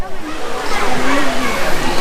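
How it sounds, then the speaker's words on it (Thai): Stream water flows steadily at the Hin Dat hot springs in Kanchanaburi, a close, continuous rushing wash with soft sloshing and a faint voice underneath. "มีลำธารเล่นด้วยสวย ดูดิแล้วเสียงมันน่าเล่นมากเลยอ่ะ"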